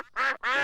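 A cartoon duck quacks twice in quick succession, two loud, close, nasal honking calls with a short gap between them.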